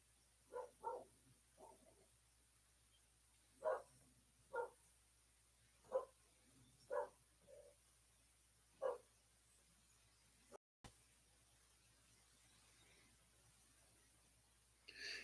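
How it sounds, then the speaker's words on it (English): Dogs barking down the road, about ten distinct barks in loose pairs and singles, faint and distant against a quiet background. "Dogs down the road are barking"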